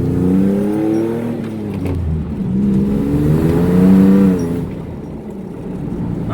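An old truck drives along a dirt road, its engine giving a steady, close droning hum that rises and falls slightly as it rolls, with no talking.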